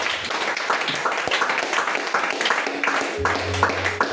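Church congregation clapping and cheering in acclamation during a lively worship service, dense continuous applause with raised voices mixed in, and a low sustained tone entering near the end.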